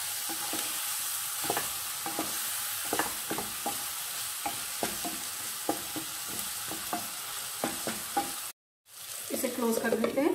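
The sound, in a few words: stirring spiced eggplant stir fry in a pan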